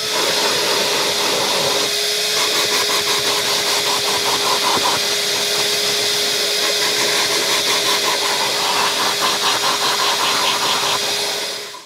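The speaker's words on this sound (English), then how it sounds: "the interior was given a detailed vacuum to remove as much loose dirt as possible prior to cleaning" A vacuum cleaner with a crevice tool runs steadily and loud, cleaning the interior and carpets of a Bentley Turbo R, a continuous motor whine with fluctuating suction as the nozzle moves.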